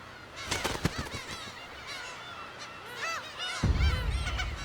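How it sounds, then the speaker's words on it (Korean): Black-tailed gulls call over the sea around Dokdo island, many overlapping nasal, honking cries from a crowded colony, some near and loud, with a low rumbling wind or surf rising toward the end. "영역 침범에 민감한 괭이 갈매기는 침입자를 용서하지 않습니다"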